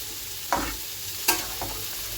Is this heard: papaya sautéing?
yes